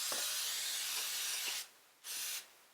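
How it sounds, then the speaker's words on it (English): Two bursts of cooking spray hiss up close into a baking pan, a long steady one lasting over a second and a half, then a brief pause and a shorter second burst. "and I really did spray it liberally."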